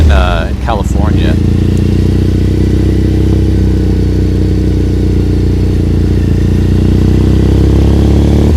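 A motorcycle fitted with aftermarket exhaust pipes and baffles idles close by with a steady, throaty low drone that holds for several seconds, while a voice briefly speaks near the start.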